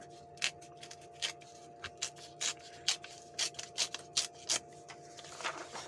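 Printed digital paper torn by hand without a tear ruler: a series of short, crisp ripping and rustling bursts in uneven rhythm, close and fairly quiet, with no talking.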